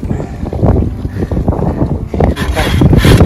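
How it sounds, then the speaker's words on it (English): Wind picks up on Darling Lake in North Dakota during a canoe trip, a loud gusting rush buffeting the microphone with bursts of water and paddling noise. "Oh boy, the wind like picked up, didn't it?"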